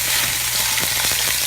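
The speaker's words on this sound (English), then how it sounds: "We're just gonna go ahead and drop our whole roast right down in there. And instantly it'll start sizzling up." A whole roast sizzles in a hot pan of olive oil, a steady close frying hiss with a few sharper crackles, no voices.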